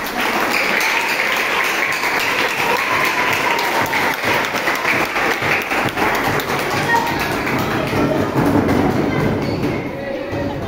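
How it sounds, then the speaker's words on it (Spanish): Applause rises at a children's football season-closing event at a club, a sustained rough clatter of many hands with crowd noise and voices mixed in throughout. "Fuerte el aplauso para Sil."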